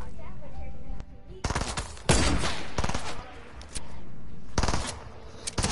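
Rifle fire in a shooting video game, bursts of loud cracking shots in quick rapid succession with brief gaps, close and dominant, with a voice speaking between bursts.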